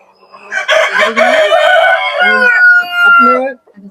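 A rooster crows loudly and close by in one long, strained, harmonic call that rises, holds and breaks off, with a few shorter clucking notes trailing at the end.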